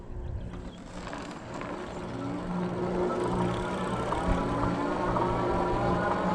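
A Himiway electric fat bike climbs a hill on throttle alone, giving a steady whirring motor hum with wind and tire rumble that swells slightly as it gains speed, and no talk.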